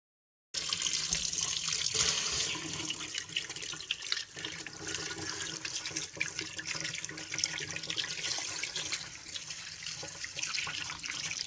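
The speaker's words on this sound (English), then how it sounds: "I'm gonna go ahead and wash my eggs off" Cooked eggs washed under a running kitchen tap, a steady close rush of water into the sink with faint handling splashes, no talk.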